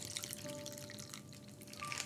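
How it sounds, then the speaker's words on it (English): A vodka cocktail is fine strained from an ice-filled shaker into a cocktail glass, giving a steady, soft liquid pour and trickle that runs close by for about two seconds. "Fine strain to the cocktail glass."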